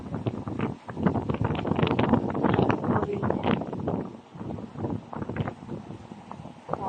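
Gusty wind atop San Francisco's hilltop mosaic stairs buffets the microphone in rough, uneven bursts, a close, loud rumbling roar that rises and falls without pause.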